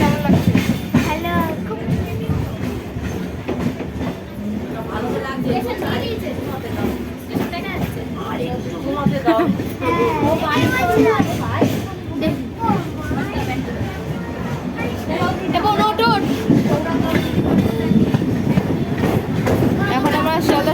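A train rumbles and clatters into Sealdah station while another pulls out, a loud, steady rail roar throughout with people talking nearby.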